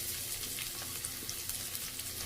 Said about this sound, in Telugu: ఫ్లేమ్ని మీడియంకి మార్చుకుని దగ్గరే ఉండి ఇలా కలుపుకుంటూ వేయించుకోవాలి.